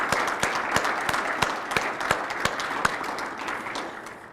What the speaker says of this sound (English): give your family, your friends, your support system a round of applause